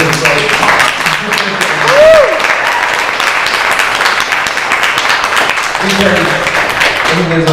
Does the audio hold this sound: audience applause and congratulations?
yes